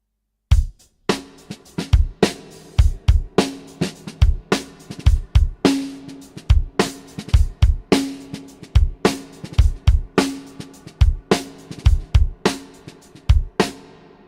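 A steady drum kit groove plays alone: punchy kick and snare hits in a repeating pattern, with quieter notes tucked between the main strokes.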